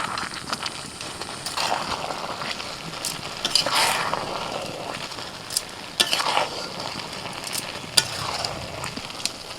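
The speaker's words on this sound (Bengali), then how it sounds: "একটু নিচে থেকে না আস্তে করে আমি নাড়াচাড়া করে দিচ্ছি একদম হালকা হাতে" Soya pulao is stirred gently in a pan as the water cooks off, with soft, repeated scraping and stirring strokes over a faint, steady sizzle.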